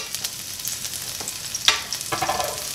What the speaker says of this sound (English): I'm going to start by putting some garlic.